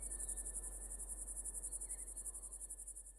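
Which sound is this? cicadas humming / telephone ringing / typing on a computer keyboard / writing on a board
cicadas humming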